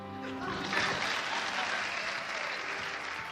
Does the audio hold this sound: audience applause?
yes